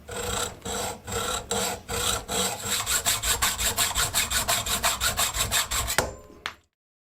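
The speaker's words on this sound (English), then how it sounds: "I could mark the Monostay and rough cut it on the seat tube end" A hand saw rough-cuts the seat tube end of a bike frame monostay tube, with slow, uneven strokes at first and then a fast, steady back-and-forth rhythm, close and loud, ending abruptly as the cut finishes.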